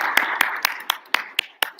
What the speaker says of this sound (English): So claps for Luke.